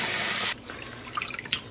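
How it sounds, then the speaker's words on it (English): A tap runs into a basin being refilled for rinsing hand-dyed alpaca yarn: a loud, steady rush of water that cuts off after half a second, followed by faint drips and small splashes. "we're gonna fill up our basin"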